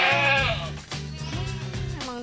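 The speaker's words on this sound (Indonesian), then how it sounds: "Ini dia kambingnya." A Senduro goat bleats loudly and close by, giving a series of wavering, drawn-out calls one after another with no talk.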